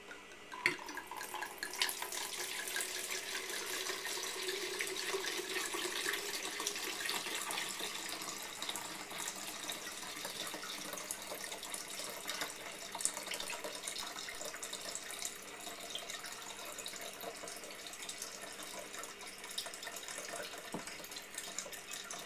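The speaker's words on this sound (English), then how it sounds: "I'm just going to pour in this pitcher" Rum and vodka are poured into a pitcher for a lemonade drink, making a long, steady trickling, splashing stream of liquid that runs continuously at moderate volume.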